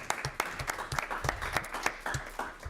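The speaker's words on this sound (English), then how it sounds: "Let's have a round of applause for Dale Stephens" An audience at a university student Q&A applauds Brighton & Hove Albion footballer Dale Stephens, a brief burst of scattered, moderately loud clapping from a small crowd.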